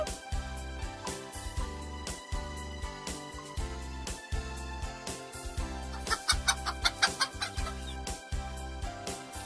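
A hen clucks in a steady run of short repeated calls, close and fairly clear over a faint rhythmic musical background, with no talking.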